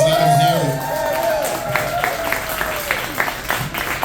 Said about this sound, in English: Give Will another big round of applause